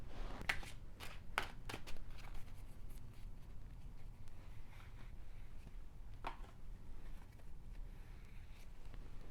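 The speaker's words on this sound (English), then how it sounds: "I'm going to throw some more cards because I just want more information" Tarot cards being shuffled and handled in a quiet room, with a few crisp riffle-like snaps early and again partway through over soft steady rustling, close and fairly faint, no talking.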